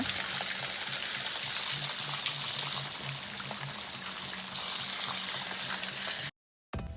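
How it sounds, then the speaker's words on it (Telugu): Water pours down from above inside a sea cave in San Andres, a steady, dense splashing rush, loud and close, continuing unbroken until a sudden cut near the end. "ఆ వాటర్ అట్లా పైనుంచి పడుతుంటే ఆ సౌండ్ ఎంత ప్రశాంతంగా ఉందంటే"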